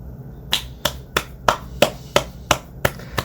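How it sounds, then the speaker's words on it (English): A single person claps hands alone, about ten sharp, evenly spaced claps at a steady rhythm, close and crisp over a quiet background. "That's me clapping, by the way, in case you couldn't tell."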